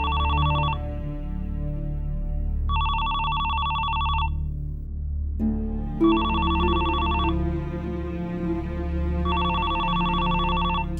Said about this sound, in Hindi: ये जरूर फैसल का फोन होगा।